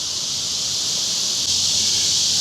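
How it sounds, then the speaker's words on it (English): Cicadas buzz in a steady, loud, unbroken drone among moss-draped oak trees in Savannah, Georgia, holding one continuous pitch from start to finish with no talk over it. "You can hear the cicadas."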